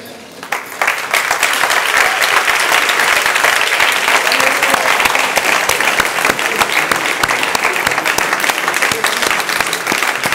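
A church congregation applauds and cheers while standing, sustained dense clapping that swells quickly after a brief quieter start and holds steady and loud for the rest.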